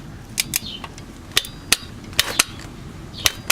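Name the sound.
torque wrench tightening a Honda Ridgeline transmission plug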